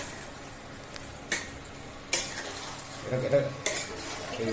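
A large pot holding three kilos of meat is stirred, with a spoon scraping and clanking against the metal in a few sharp strokes over a soft sizzle, no voices present.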